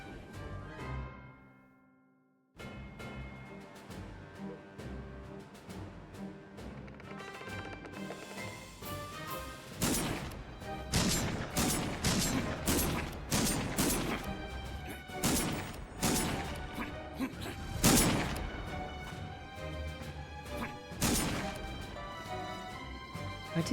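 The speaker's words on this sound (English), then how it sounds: "They hurry to follow the sounds of cannons and gunfire to find a city at war." Battle din from the video game Pumpkin Jack, with cannon booms and gunfire crashing over a dense game soundtrack. The blasts come in repeated loud bursts after a brief quiet opening.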